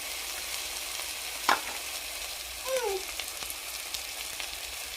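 Tomatoes and turmeric sautéing in hot oil with onions in a pan for a drumstick flower curry, giving a steady, close sizzle with a sharp scrape of a spoon and some brief stirring noises.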